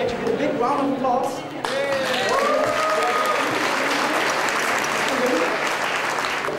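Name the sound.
audience applause as Christine joins stage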